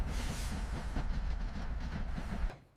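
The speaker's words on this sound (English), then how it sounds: "The train approaches." A steam train draws closer with a broad, steady rumble and hiss, loud and continuous, carrying clattering wheel noise before it cuts off abruptly.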